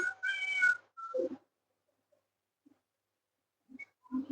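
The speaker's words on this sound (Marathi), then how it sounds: "मांजर मला बघून म्याव म्याव करते" A cat lets out a clear, drawn-out meow followed by a shorter one, then a pause of near silence before a few faint mews.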